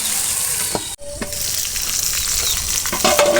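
Pointed gourd curry fries in a pan on a stove with a steady, close sizzling hiss, broken by a brief dip and a few clinks of stirring.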